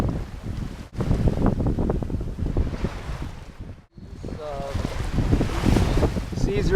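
Strong wind and 3-foot seas off the Jersey Shore near Atlantic City, heard from a sailboat moving fast in 15 to 20 knot winds: heavy gusting buffets the microphone over rushing water, with brief voices in the background.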